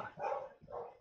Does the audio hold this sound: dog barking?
yes